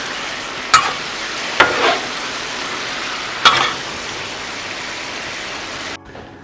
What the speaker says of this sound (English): Let that sauce heat up good and get everything coated